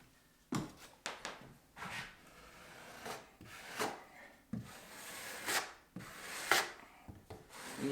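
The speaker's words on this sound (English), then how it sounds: "I'm just getting all the excess mud out from underneath of it." A taping knife drags excess drywall mud out from under paper tape on a renovation job, sounding as a series of close, rough scraping strokes in an uneven rhythm with no talk.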